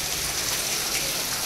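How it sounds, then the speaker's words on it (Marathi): Heavy rain pours down outdoors under sunshine, a dense, unbroken hiss of falling water, close and steady throughout with no voices over it. "पाऊस पण पडतो आहे जोरात"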